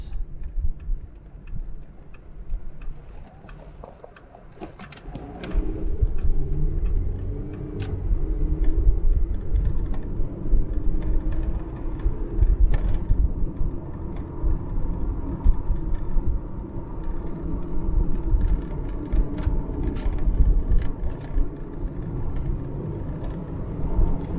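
A 1991 Mitsubishi Lancer with very low mileage drives along with a steady engine and road rumble. Partway in, the drone deepens and grows louder as the automatic transmission is pushed to kick down, then it holds a sustained, even roar.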